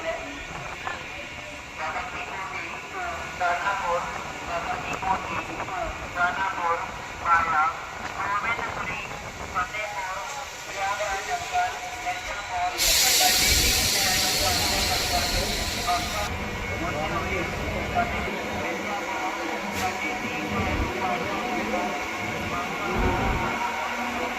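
The Etawah–Mathura MEMU train runs along the line, a steady rumble and clatter of wheels from inside the carriage, with a burst of hiss midway and people talking over it.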